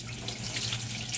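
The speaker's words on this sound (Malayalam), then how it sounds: "അങ്ങനെ അരിയൊക്കെ കഴുകാൻ പോകുന്നു." Rice washed for chicken biryani under a running kitchen tap, heard as a steady rush of water into a sink with a soft splashing texture, fairly quiet and continuous.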